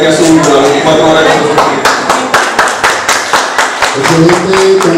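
An audience applauding at a Spanish-language talk on eugenics: a loud run of fairly regular, rhythmic claps with people speaking over the clapping.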